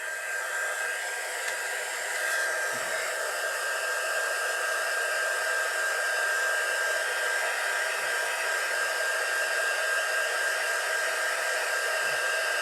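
A handheld hair dryer runs without a break while it dries paint on a light-up Christmas tea light word ornament, giving a loud, even, close-up whir for the whole stretch, with no voices.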